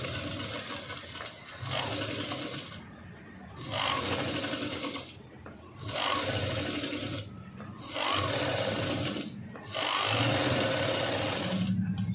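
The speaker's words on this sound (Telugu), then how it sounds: "తిరగేసి బకరం మీద పెట్టి నీట్గా స్టిచ్ చేసి వేస్తున్నాను" A sewing machine stitches a V-neck cut-work blouse, the fabric turned over onto buckram, running in loud steady bursts of whirring with short pauses between them, close by and alone.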